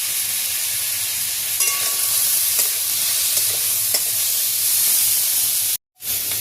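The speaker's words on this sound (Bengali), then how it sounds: "এইবার আমি এর মধ্যে সবজিটা দিয়ে দিচ্ছি। সবজিটা দিয়েও নাড়াচাড়া করে নেব।" Vegetables sautéing with onions in a pan, a steady sizzling hiss with scraping, clattering stirs throughout, stopping briefly near the end.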